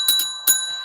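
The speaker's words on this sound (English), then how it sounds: "So the bell has rung." A small bell gives two quick bright dings close together, then a third strike after a short pause, each ring clear and metallic with a brief decay.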